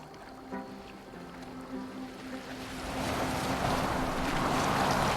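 Boat gliding across open water in Assassin's Creed Valhalla, with steady wind and wash of waves rising to a louder, continuous rush, over a low sustained musical drone.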